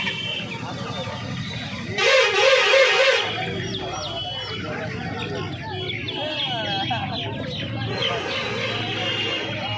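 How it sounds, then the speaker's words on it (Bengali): At a busy hen market, golden chicken chicks and hens cluck and cheep amid a dense crowd with people talking throughout, a vehicle horn sounding briefly in the middle. "এই খাঁচাটার মধ্যে দেখতে পাচ্ছ প্রচুর সোনালী মুরগির বাচ্চা রয়েছে।"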